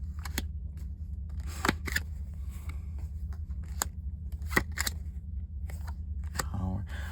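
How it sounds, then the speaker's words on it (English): Tarot cards pulled one by one from a deck make a series of brief, crisp snaps and flicks, spaced irregularly over a steady low hum. "I want you to see that I'm pulling these cards."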